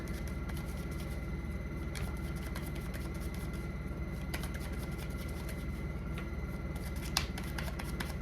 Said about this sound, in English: I'm gonna go ahead and shuffle these.